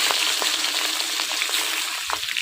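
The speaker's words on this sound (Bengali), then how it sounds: "আর বাকি মাছগুলো সব ভাজা হয়ে গেছে, এবার তুলে নেব।" Pieces of katla fish frying in hot oil in a home kitchen, a steady dense sizzle with faint crackles and small pops throughout, close and alone.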